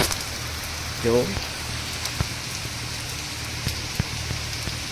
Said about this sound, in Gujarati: હા જો ભાઈ, ફૂલ વરસાદ ચાલુ થઈ ગયો હોય.